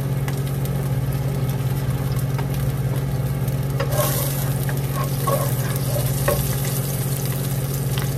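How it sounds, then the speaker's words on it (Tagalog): Garlic sizzles steadily in hot oil in a pan, a loud, close, continuous frying hiss with a few crackles and stirring scrapes, no talk. "Igisa natin ang ating bawang"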